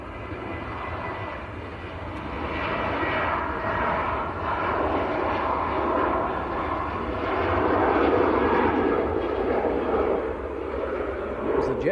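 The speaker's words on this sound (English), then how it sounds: "There's a Jet2 on the roll as well." A Jet2 airliner on its takeoff roll at Manchester Airport gives a steady, broad engine roar that swells slightly and holds, heard from a distance across the airfield.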